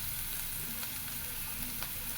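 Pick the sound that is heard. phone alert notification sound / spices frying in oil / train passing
spices frying in oil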